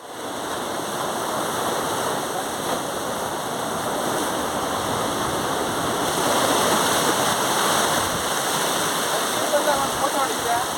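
Water rushes steadily as containers are filled on an outing to Honey Beach in Uttara Kannada, Karnataka: a constant, even hiss with no breaks.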